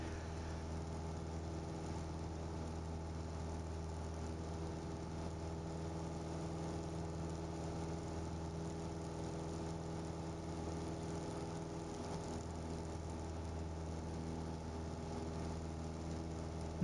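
A Piper Archer light aircraft engine drones steadily at climb power after takeoff on a cold, dense day, a loud, even cabin hum with strong harmonic tones that holds unchanged from start to finish, no talking.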